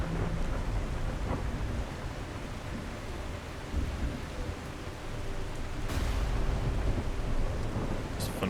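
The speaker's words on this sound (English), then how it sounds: "it's stormy." A video game thunderstorm in The Last Caretaker rumbles with rolling thunder over constant rain, a loud continuous wash with a couple of sharper cracks, no one talking.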